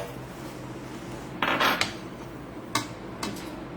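A spoon stirring ice cream mixture in a metal pot, giving a few short scraping and clinking strokes that stand out over a steady background hum.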